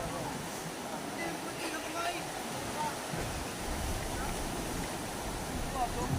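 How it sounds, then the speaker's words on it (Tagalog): Large sea waves crash and wash continuously in a broad roar from a boat at sea, with people talking under the surf. "Mahirap mag-alalay. Malalaking alon."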